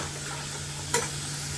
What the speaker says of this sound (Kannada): ಫ್ರೈಸ್ ಫುಲ್ಲು ನೀಟಾಗಿ ಫ್ರೈ ಆಗಬೇಕು